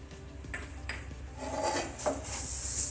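Puffed rice and bhujiya namkeen stirred together in a pan over a low flame, a metal spoon scraping and clinking against the pan in a few sharp knocks and soft rustling scrapes, close and alone.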